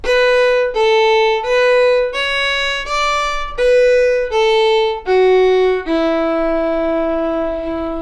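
A fiddle plays the second ending of the B section of Drowsy Maggie, a run of about eight bowed notes ending on a long sustained E, close and clear with no talking.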